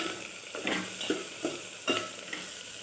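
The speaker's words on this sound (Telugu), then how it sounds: "ఇలా బాగా ఫ్రై అయ్యే వరకు కలుపుకోవాలి" A spoon stirs spices frying in an oil-filled pan, with a steady close sizzle broken by several soft scraping strokes at an irregular pace and no voices.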